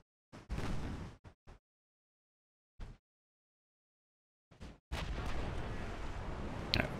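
Warship guns fire in the naval battle game Ultimate Admiral Dreadnoughts: a few sharp booming reports separated by silence, then a long sustained rumble of continuous gunfire, loud and close.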